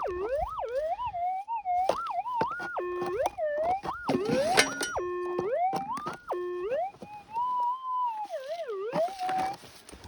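A metal detector wails with a loud warbling tone over a strong target in a small creek, rising and falling repeatedly, shrill and continuous, with faint rustling behind it.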